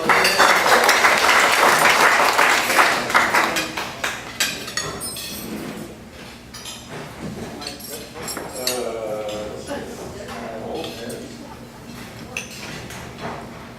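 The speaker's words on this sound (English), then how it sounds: "Let's have a round of applause for our leader." A round of applause at a club meeting, loud dense clapping for a few seconds that thins into scattered claps, followed by people talking.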